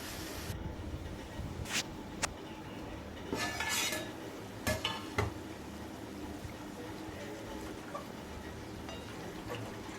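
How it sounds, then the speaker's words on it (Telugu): A metal spatula scrapes and clinks against a pan as chicken fry is stirred, with a few sharp scraping bursts over a steady low background, heard close. "మధ్య మధ్యలో కలుపుకుంటూ ఫ్రై చేసుకోవాలి లేదంటే అడుగంటుద్ది"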